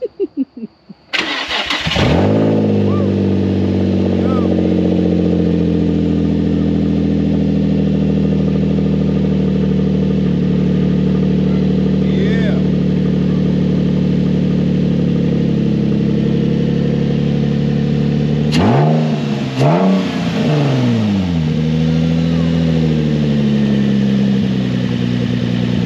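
A Nissan 350Z engine cranks and fires up, then settles into a steady, loud, close idle for a long stretch before a pair of sharp revs near the end, with no talk.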